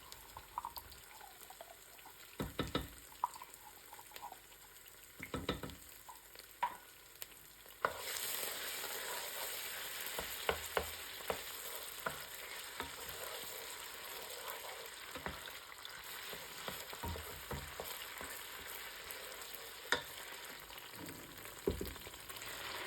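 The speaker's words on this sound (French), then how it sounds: "Et je vais aussi bien remuer." A whole tin of tomato paste sizzles and fries in a cooking pot for jollof rice, with a steady low crackle and scattered scraping knocks of stirring that grow busier partway through, no talking.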